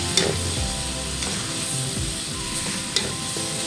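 Chicken thighs fry in their own rendered fat in a pan, giving a steady crackling sizzle with occasional stirring clinks and scrapes, heard up close with no voices.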